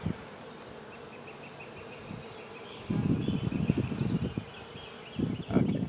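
Honey bees buzzing around an open hive during a spring inspection, a faint airy hum with louder close passes of buzzing wings coming and going in bursts.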